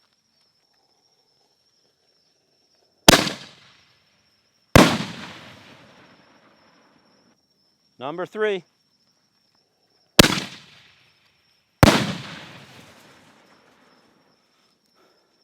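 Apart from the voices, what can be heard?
Four Season Fireworks Zombie shells exploding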